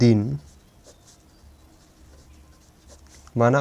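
Pen writing by hand on paper while working through a quadratic equation, a soft faint scratching that runs for about three seconds between bursts of speech at the start and end.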